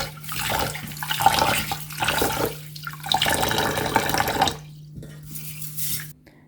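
Half a cup of mung beans is washed in water: swishing, sloshing and splashing close up, with occasional clinks against the container. The bursts come in uneven waves and stop briefly toward the end, all without talk.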